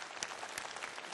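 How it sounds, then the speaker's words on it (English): A room full of people applauds, continuous clapping with a few sharper claps standing out, fairly soft and even. "give yourselves a round of applause for that"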